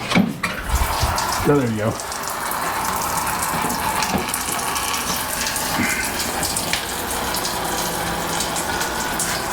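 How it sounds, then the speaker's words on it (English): Liquid sprays and gushes steadily from an opened radiator cap on an 85 Dodge D-150 pickup, a loud continuous hiss of rushing fluid with a brief spoken remark early on. "I want to open that cap and that's going to spray out like a fountain"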